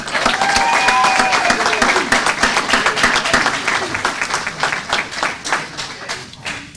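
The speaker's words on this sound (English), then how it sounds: "let's give a round of applause to Jeff Conway" Round of applause from a graduation audience as the host is introduced, energetic clapping at first that gradually thins toward individual claps as it dies down.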